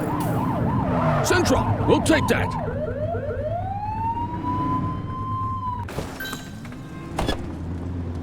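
Police car siren in the video game The Precinct: rapid rising-and-falling yelps give way to a long sweeping wail that then cuts off, followed by short blips, with radio chatter and a voice over the top.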